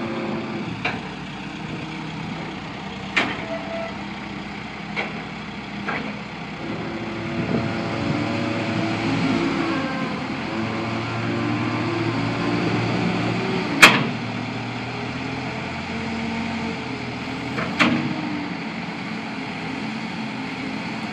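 A 2007 Caterpillar TL943 telehandler with power shift transmission idles at a low, steady hum, with faint hydraulic whine as it tilts and scattered metallic clanks and knocks.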